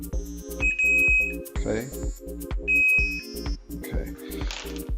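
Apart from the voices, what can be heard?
continuity checker beeping while testing fuses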